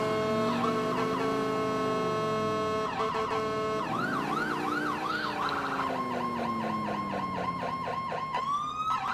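Police car siren in the video game GTA IV, several wailing and yelping siren patterns switching back and forth, loud and steady throughout, with the low hum of a vehicle engine underneath.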